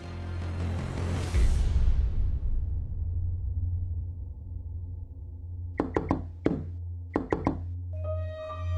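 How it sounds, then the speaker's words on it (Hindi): Knocking on a door in a house comes as two short groups of close, firm raps after a fading swell of sound, with a faint tonal chime toward the end. "कबीर बेटा, बेटा दरवाजा खोलो।"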